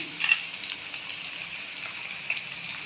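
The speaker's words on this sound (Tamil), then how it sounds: "இஞ்சி பூண்டு வெந்துருச்சு இப்போ இதில் நம்ம கட் பண்ணி வச்ச வெங்காயம்" Chopped onions frying with ginger and garlic in a pan on low heat, a soft continuous sizzle with a few brief louder crackles and stirring bursts.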